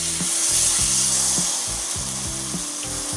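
Steady broadband sizzle of a pulled pork grilled cheese sandwich frying in a hot pan, continuous and fairly loud, with a few low knocks and scrapes underneath.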